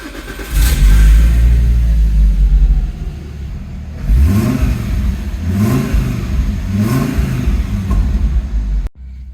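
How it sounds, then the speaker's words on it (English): A Fiat Coupe 20v five-cylinder engine cranks and fires into a loud, deep idle, then rises and falls through three sharp revs, close and alone, before cutting off abruptly. "So let's start her up and we can listen to the glorious roar of the engine."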